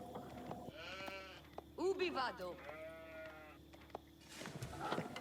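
Sheep bleat repeatedly in an Age of Empires IV match, a cluster of wavering animal calls in the middle with softer ones before and after, set against game ambience and a low steady tone.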